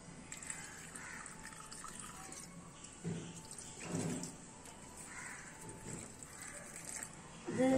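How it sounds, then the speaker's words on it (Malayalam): Water is poured into a cooking pot in a kitchen with a steady, fairly soft splashing stream that runs throughout. Faint crow caws sound in the background. "നമുക്കിതിലേക്ക് ഇനി ആവശ്യത്തിന് വെള്ളം ഒഴിക്കാം."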